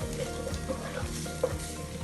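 Onions fry in a pan for bean curry with a steady, close crackling sizzle, with light stirring scrapes and a few sharper pops over the constant hiss.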